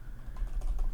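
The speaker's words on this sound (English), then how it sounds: "I'm going to type in" Soft keystrokes on a computer keyboard come in a quick, faint run of clicks over a low background hum.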